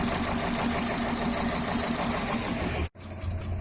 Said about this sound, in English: Our slightly warmer plugs are in, so we'll crank her over and see what happens.